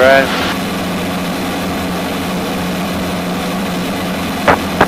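Steady drone of a Zenith CH 750 Cruzer light aircraft engine at cruise RPM in flight, loud and continuous from inside the cabin, with a brief tonal blip at the start and near the end.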